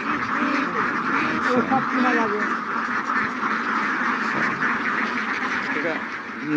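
A flock of ducks quacks continuously nearby in a dense, overlapping chorus, loud and unbroken throughout.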